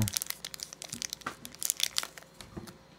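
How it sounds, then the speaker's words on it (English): Close, crinkly plastic rustling and ripping in quick irregular bursts, crackling sharply for a few seconds with no talking. "Tears just like a normal bag."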